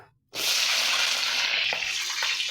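Water is poured off freshly cut brinjal pieces in a kitchen, a sudden close gush that begins after a brief silence and keeps running steadily to the end.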